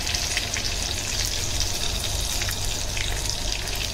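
Mutton samosas deep-frying in hot oil over medium heat, a steady dense sizzle and bubbling that holds at an even level throughout with no talk.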